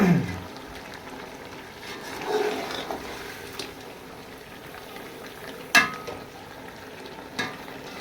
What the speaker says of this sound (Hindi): अब इसको अच्छी तरह से भूनेंगे, पकाएंगे गलाने तक, ताकि अच्छी तरह इसका मसाला बन जाए।